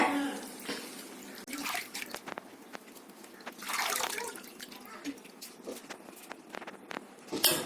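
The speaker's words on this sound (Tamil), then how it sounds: "அந்த கீரையை நல்லா புழிஞ்சு இந்த குக்கரில் எல்லாத்தையும் அள்ளி வச்சிருங்க" Water-soaked spinach leaves squeezed by hand and dropped into a pressure cooker: close, wet squelches and drips with scattered splashes and clatter, in bursts over a quiet background.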